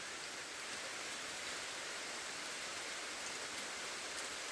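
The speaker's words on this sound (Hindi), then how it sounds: "भयंकर तेज़ी से बारिश आने स्टार्ट हो गई भाई" Heavy rain pouring down outdoors, a dense, steady hiss of water falling on surfaces, constant and loud without pause or voices.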